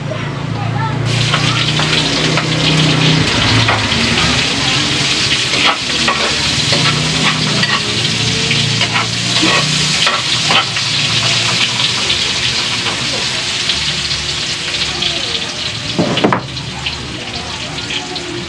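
Garlic and onion sauté loudly in a hot pan for a home-cooked pakbet, a steady broadband sizzle with scraping stir strokes throughout and a brief clatter near the end; low voices murmur faintly underneath.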